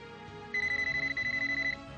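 A phone ringtone chirps in a fast, warbling electronic pattern for about a second, loud over a quiet background.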